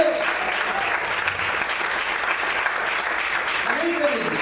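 A church congregation claps for the Lord during a Portuguese evening sermon, dense, loud applause sustained throughout, with a voice rising briefly near the end.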